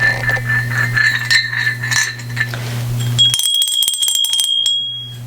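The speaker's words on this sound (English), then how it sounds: "So when this bell comes out, I think of them." A Christmas bell from a holiday collection rings with bright, sustained chiming tones that ring out for several seconds, followed by a second, sharper ringing strike with a clear lingering tone, close and alone.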